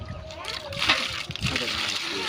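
Water splashes and sloshes as it is poured from a bucket while draining a village pond to catch fish, heard close and loud with people talking over it.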